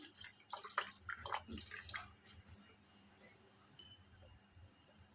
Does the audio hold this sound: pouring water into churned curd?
yes